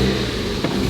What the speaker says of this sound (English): you can notice a little bit of stumble and the car doesn't rev up right away.